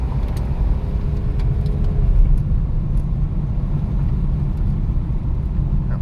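BMW E46 M3 with SMG gearbox cruising along a road, a steady low engine and tyre rumble heard from inside the car, even and continuous without gear changes or revving.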